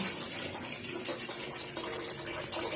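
Tap water pours steadily into a container during a household water shortage, a continuous broadband rushing splash that stays fairly loud and even throughout, with no talking over it.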